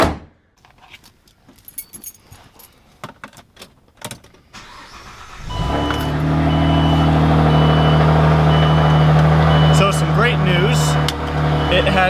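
Car fitted with a new turbo starting up after keys jangle and some clatter, then the engine idles and revs loudly and steadily at close range, with a few short beeps near the end.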